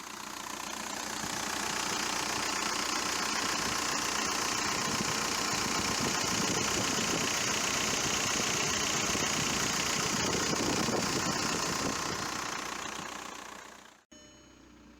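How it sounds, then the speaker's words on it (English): A Volkswagen Jetta engine runs at a steady idle with the AC on, a low rumble and faint rattling vibration, then stops abruptly near the end. "I'll start the engine and turn on the AC"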